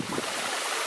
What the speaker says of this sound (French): on va à une cascade et là, on s'en rapproche a priori, parce qu'on l'entend bien